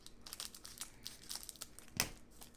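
A whacked buttery candy in a crinkly plastic wrapper is unwrapped close up, with rapid crackling and rustling and one sharper tearing crunch near the end.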